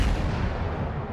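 Naval shell gunfire from battleship turrets in the World of Warships video game, heard as a loud, heavy boom with a rumbling tail that fills the short moment with no speech.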